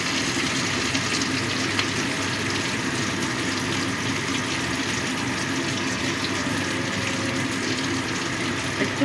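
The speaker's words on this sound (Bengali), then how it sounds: "তার জন্য আমি একটু জল দিয়ে দিলাম।" Water pours steadily into a mixer grinder jar still coated with ground green banana peel paste, a continuous close splashing trickle with no talk over it.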